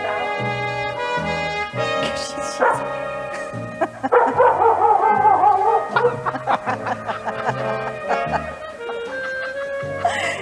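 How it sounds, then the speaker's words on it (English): A dog yowls and whines in a sing-along manner over tinny backing music played through a phone, sounding loud and close. "Come on, get that dog singing."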